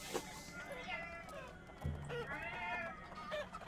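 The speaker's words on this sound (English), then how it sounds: "What the fuck does this cat do? It's making sounds." A cat creature in the battle game Totally Accurate Battle Simulator gives several rising and falling meows, close and fairly loud, with people talking over them.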